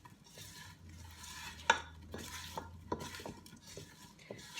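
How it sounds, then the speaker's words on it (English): Brussels sprouts with minced garlic and thyme are stirred inside a Ninja Foodi, with a spoon scraping and clinking against the pot in a few irregular knocks over a faint sizzle. "Now I want to give this a good stir."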